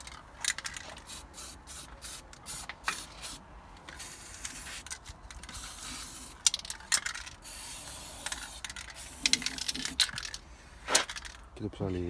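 Aerosol spray can hissing in repeated bursts of varying length while painting a Mazda RX-7 FD, close and fairly loud, with rattling and handling noises between sprays.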